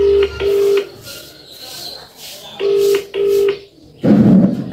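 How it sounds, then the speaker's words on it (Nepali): A phone call ringback tone sounds in repeated paired beeps with pauses, close and loud over faint background noise, followed by a brief louder burst at the end. "तै पनि म फोन गर्छु एकचोटि,"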